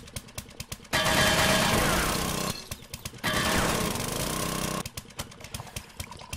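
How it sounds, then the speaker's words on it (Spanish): A drill boring into metal in the 7 Days to Die video game, two loud sustained grinding bursts separated by a short pause, with rhythmic mechanical thumping before, between and after them. "supongo que se escuchará muy fuerte mientras taladro"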